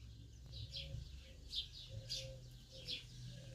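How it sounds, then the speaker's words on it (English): Bird chirps outdoors in quiet surroundings, a few bright tweets repeating at irregular intervals over a steady low hum, moderately near. "Hear the birds chirping."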